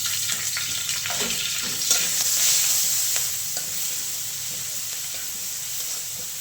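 Green chillies sautéing in hot oil with cumin and garlic in a home kitchen, a steady close sizzle and hiss with occasional stirring clinks.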